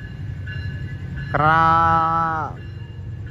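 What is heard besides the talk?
local train hauled by CC 206 locomotive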